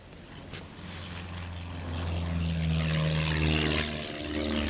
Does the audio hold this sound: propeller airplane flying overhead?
yes